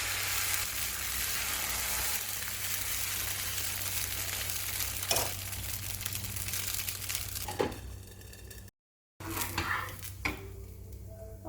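Egg dosa batter made from old idli batter sizzles and crackles steadily on a hot pan, loud and close, with a few scraping clicks of a utensil near the end.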